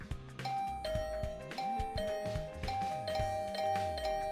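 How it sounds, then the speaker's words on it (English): A doorbell chimes over and over in a video game, its two-tone ding-dong repeating steadily and insistently for several seconds, loud and alone with no talking. "this assault on my doorbell would continue until I answered"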